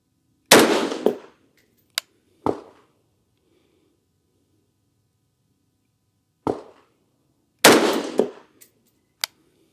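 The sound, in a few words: 224 Valkyrie rifle shots fired down range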